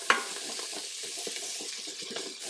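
Minced garlic and softened onions sauteing in an Instant Pot, a continuous light sizzle with a sharp clink at the start and soft stirring scrapes throughout.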